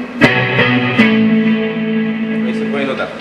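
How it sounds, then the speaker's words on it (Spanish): Clean electric guitar with a small reverb and a light delay, a few plucked notes and chords ringing out with soft echoing tails, close and fairly loud. "Y tiene una pequeña reverb y también un pequeño delay."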